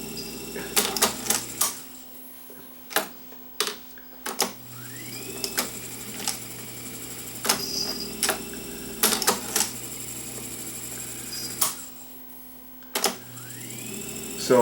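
Mechanical clicking and clunking from an Akai M9 reel-to-reel tape deck stuck driving forward, irregular sharp clacks over a steady motor hum, close and moderately loud.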